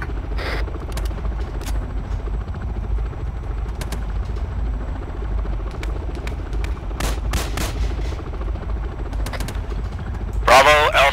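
Gunfire in a combat video game during a Task Force Athena training mission, scattered sharp shots and short bursts over a constant low rumble like a helicopter, with radio-style voices talking throughout.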